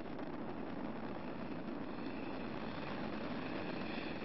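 A continuous, heavy roar from Discovery's three main engines as the shuttle climbs on the STS-116 launch from Kennedy Space Center, unbroken and even in level from start to finish.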